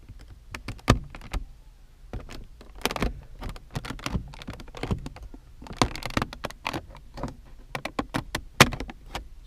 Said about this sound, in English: wedge it back in again, and you'll hear it click open